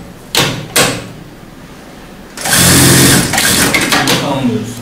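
A sewing machine stitches a 7 mm seam along the folded 1 cm hem of a tracksuit, running in a steady loud burst after two short clicks, with a voice speaking close by.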